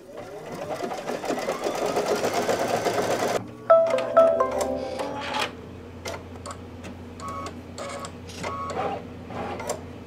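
Embroidery machine sewing a batting tack-down stitch, a dense steady rattling hum of rapid needle strokes at first, then sparser ticking and clicking as it moves, close and fairly loud with no talking.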